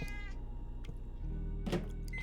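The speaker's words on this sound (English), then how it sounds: "Feed that kitty and give him some pets." A pet cat meows near the microphone, a short plaintive call over a steady low background hum, with no talking.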